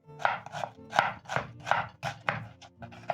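A kitchen knife finely chops onion on a board, with about eight crisp, evenly spaced cuts in a quick, steady rhythm, heard close up and without talk.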